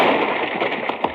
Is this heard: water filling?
no